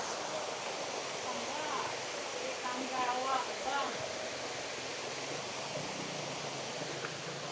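Continuous broadband rush of a river being crossed on a motorcycle trip, steady and fairly loud, with a voice speaking briefly beneath the flow.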